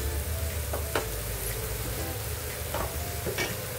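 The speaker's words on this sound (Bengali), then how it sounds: "দিয়ে ভালো করে এটা ভেজে নেবো এর সঙ্গে" A potato filling for aloo paratha, seasoned with coriander powder, fries in a pan over a low flame with a soft, steady sizzle and a few short scraping stirs, close by and without talking.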